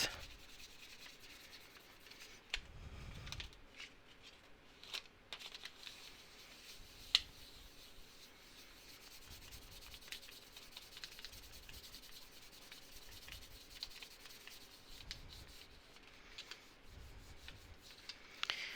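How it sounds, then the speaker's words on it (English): Soft, steady rubbing and sanding strokes while burnishing the back of a polymer clay ring dish, a quiet close scraping texture with a few faint taps, no talking. "I'm going to give it another burnish just so the back looks nice and smooth."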